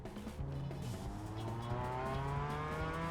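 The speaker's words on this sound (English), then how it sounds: "You can hear behind us all the rookie MX-5 engine revving." Mazda MX-5 race car engines rev together at a standing start in iRacing, a pack of rising and falling engine notes that drone close and loud, with pitch climbing toward the end.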